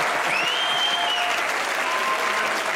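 A studio audience at a comedy talk show gives cricketer Mohammad Yousuf a loud, dense, sustained round of applause that runs steadily for the whole stretch.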